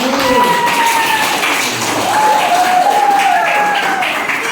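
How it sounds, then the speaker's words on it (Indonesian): A class of students claps for the first discussion group during a teacher-training practice lesson in an Indonesian classroom, steady close applause lasting throughout with a few whistle-like tones and voices mixed in. "tepuk tangan dulu untuk kelompok 1"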